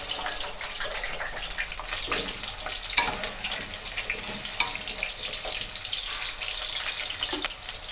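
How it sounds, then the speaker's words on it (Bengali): Potatoes dropped into about a third of a cup of hot oil hiss with a steady, dense, close sizzle that holds evenly throughout, with faint scraping under it. "তেলটা গরম হয়ে গেছে, আলুগুলো দিয়ে দিচ্ছি।"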